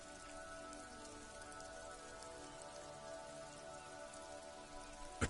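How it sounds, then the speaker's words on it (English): Steady rain drumming on car roofs in a traffic jam within a video game's city scene, a continuous dense patter alone with no voices, holding even throughout. "Rain thrumming on the roofs of motor vehicles."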